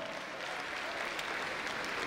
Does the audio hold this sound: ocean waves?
no